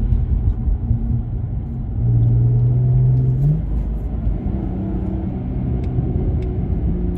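BMW 330i with the N52B30 straight-six and a manual gearbox, fitted with an ESD performance exhaust, gives a loud, steady low rumble that swells into a stronger revving surge midway, then settles back to a throaty drone.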